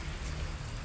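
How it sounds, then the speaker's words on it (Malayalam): Rain falling steadily in a garden, a dense, even hiss of drops with a low rumble underneath, brief and uninterrupted. "മഴ."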